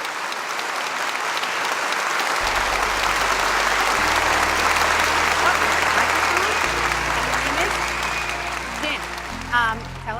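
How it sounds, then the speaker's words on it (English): An audience at a talk or seminar breaks into loud, sustained applause that swells and carries on for about ten seconds, with some voices and a low musical tone underneath. "Big round of applause, please."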